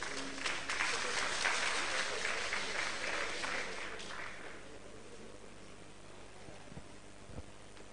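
Audience applause at the Ake Arts & Book Festival 2017, a burst of crowd clapping that swells loudly, then fades gradually into quieter room noise.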